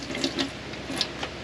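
Hot water runs from a tap in a small two-berth campervan, a continuous splashing stream with a few brighter spatters and gurgles, close by and alone.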